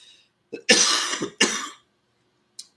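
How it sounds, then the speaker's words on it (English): A few harsh coughs close up, a short one then two longer hacking bursts, followed by a brief faint sound after a pause; no talking. "This is why I have an intense cough."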